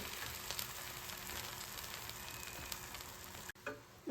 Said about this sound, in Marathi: आपण जे आता फ्रँकी असेंबल केली आहे ती आपल्याला ह्यावरती छान शेकून घ्यायची